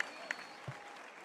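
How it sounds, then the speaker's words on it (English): Crowd applause follows a four-round professional debut boxing bout at Soboba, a brief, distant, fairly faint patter of clapping with a couple of louder isolated sounds. "before I read the scorecards, a round of applause"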